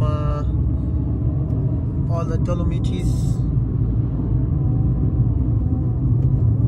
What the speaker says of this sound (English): I rented this car, which is the Fiat Panda.